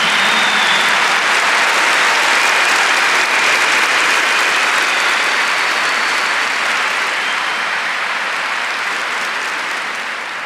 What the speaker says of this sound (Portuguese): So let us begin the day by giving the Lord a big clap for the good news.